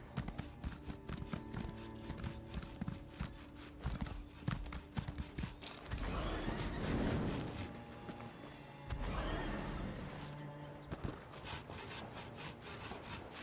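Hooves clip-clop steadily as a horse is ridden in Elder Scrolls Online's Elsweyr, with a whinny partway through; the sound is quiet, with a rustling texture throughout.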